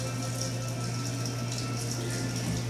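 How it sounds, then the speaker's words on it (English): Hot water runs from a tap into a plastic drain line, a steady close rushing hum that holds evenly throughout without voices. "So I'm going to run some hot water there."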